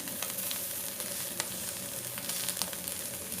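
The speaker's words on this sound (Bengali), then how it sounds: "তো এই যে চাপা শুটকি কিন্তু আমি ধুয়ে এটাতে দিয়ে দিলাম," Washed, dried chepa shutki fish sizzles in a frying pan with a steady, close hiss and occasional crackling pops.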